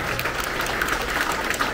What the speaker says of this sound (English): Another big round of applause for our Principal's Honor Roll recipient.